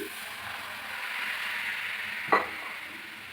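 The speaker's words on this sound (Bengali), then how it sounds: "বসিয়ে প্যানটা ভালোভাবে গরম করে নিচ্ছি এবার জল দিয়ে দিচ্ছি" Water added to a hot pan while making aloo kulcha, a hissing sizzle close by with a short sharp clink partway through, then the hiss continuing softly.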